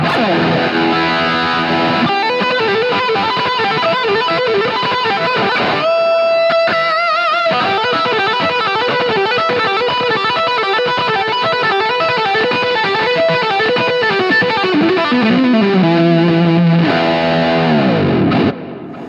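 A heavily distorted electric guitar plays a fast, busy run of notes, steady and loud, ending with a sliding bend and cutoff.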